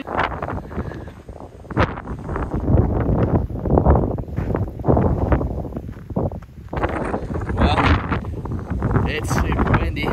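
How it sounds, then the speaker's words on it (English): Strong wind at a Big Sur campsite buffets the microphone with loud, gusty roaring and rumbling that rises and falls throughout, while people talk underneath. "Well, it's super windy."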